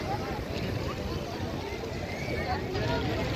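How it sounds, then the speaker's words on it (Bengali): A speedboat at a sea beach in Chattogram runs through a steady engine and water rush with wind buffeting the microphone, and crowd chatter and voices continue throughout. "এই একটা স্পিন বোট আসতেছে।"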